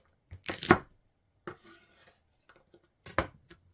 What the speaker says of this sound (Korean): 매콤하게 청양고추도 썰어 넣어줍니다.